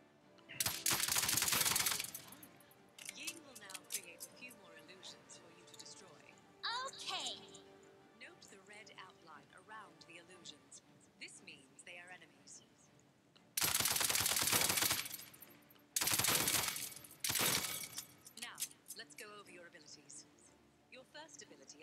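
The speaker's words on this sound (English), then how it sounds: "Your primary weapon is your assault rifle." Assault rifle fire in a video game rattles out in loud automatic bursts, a long burst near the start and several more later, separated by quieter game sounds and spoken voices.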